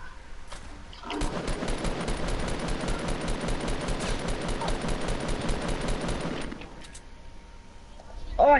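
Rapid automatic gunfire in the video game Fortnite, a sustained rattling burst of about five seconds, loud and close, framed by quieter game ambience before and after.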